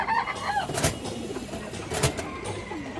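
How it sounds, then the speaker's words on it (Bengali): A female pigeon gives soft low coos amid a rustling, clicky background, with a couple of sharp knocks and thin whistle-like calls nearby. "এই দেখেন মাদি কবুতর"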